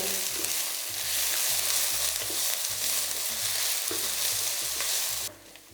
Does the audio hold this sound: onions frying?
yes